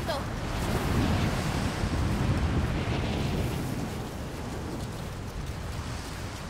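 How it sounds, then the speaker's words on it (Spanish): A strong gale howls across a snowy mountain in the video game Rise of the Tomb Raider, a steady broadband roar of rushing wind that stays loud and unbroken throughout. "¡Vaya ventarrón!"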